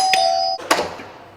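A doorbell at a studio apartment in Dubai chimes twice, a bright electronic ding-dong, loud and close with no talk.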